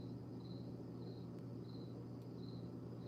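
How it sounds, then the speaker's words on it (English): Crickets chirp outdoors on a summer night in faint, regular pulsing trills repeating about every half second over a steady low background hum, with no voices. "I think that might be a cricket, actually."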